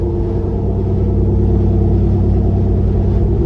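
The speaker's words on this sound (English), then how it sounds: "you hear the tires more than the Jeep when cruising" A 2021 Jeep Wrangler 392 on 40-inch tires cruises at a steady pace, with a constant low droning rumble of tire and engine noise throughout.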